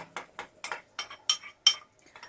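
A spoon clinks rhythmically against the sides of a cup, about eight quick metallic taps of stirring a tablespoon of starch into 70 ml of water, close and fairly quiet.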